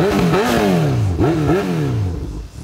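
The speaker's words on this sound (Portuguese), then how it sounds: "Qual moto que é essa? aí é CB1000. Dá uma ligadinha aqui pra você ouvir o ronco." A Honda CB1000 motorcycle engine revs several times in quick succession, each rev rising and falling sharply, loud and close, then settling into a rumbling idle.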